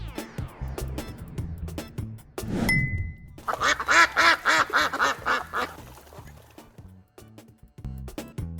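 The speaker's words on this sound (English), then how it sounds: "It's a duck." A duck quacks in a rapid, rhythmic series of loud, nasal calls close by, preceded and followed by other clattering noises.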